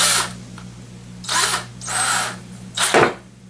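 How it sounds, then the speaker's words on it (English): Power drill with a 1/8 inch bit boring pilot holes in a wooden shelf piece, three short whirring bursts separated by pauses over a low steady hum, close and loud. "go ahead and drill our pilot holes"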